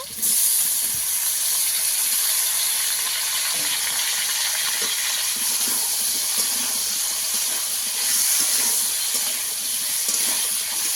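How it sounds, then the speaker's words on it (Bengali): Potatoes and tomatoes fry in a pan, giving a steady, even sizzle and hiss that holds for the whole stretch with only small swells and faint clicks underneath. "আলুটা কিছুক্ষণ ভেজে নেব আমি। টমেটোগুলো দিয়ে দেব।"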